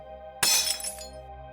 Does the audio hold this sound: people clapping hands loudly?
no